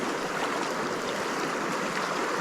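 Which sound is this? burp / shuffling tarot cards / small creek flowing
small creek flowing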